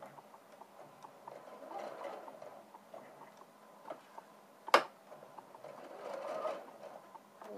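A sewing machine stitches inseam pockets with a quiet, rapid ticking hum in short bursts, with a sharp click partway through and soft handling sounds around it.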